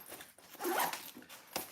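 Zipper of a packing compression cube being drawn in a couple of quick rasping pulls, close and fairly quiet, with a short final zip at the end.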